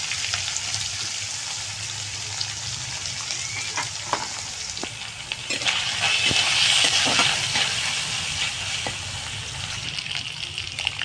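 Small pieces of coconut sizzle steadily in hot oil in a pan, a constant close frying hiss broken by occasional scraping taps of a stirring utensil.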